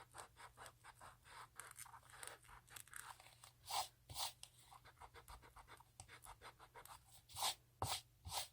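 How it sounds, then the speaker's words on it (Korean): An eraser rubbing along pencil lines on paper while drawing a monkey, a close, quiet, scratchy back-and-forth scrubbing in uneven strokes with sharper bursts near the end. "지우개로 연필선을 따라서 한번 지나가는 느낌으로"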